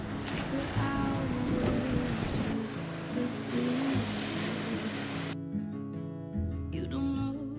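Ocean surf rolling onto the empty sand of Red Frog Beach in Bocas del Toro, Panama, a steady broadband wash of breaking waves and wind that cuts off abruptly near the end, leaving a faint low tone.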